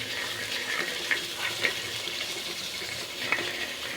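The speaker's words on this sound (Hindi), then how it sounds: "अब इसके अंदर मैं ये 1 प्याली सोया सॉस डाल दूँगी और इसको मिक्स कर दूँगी अच्छी तरह।" Soy sauce poured into ketchup and stirred in a kitchen: a soft, continuous wet swishing with a few light clinks of a spoon against the bowl, faint and close, with no talking.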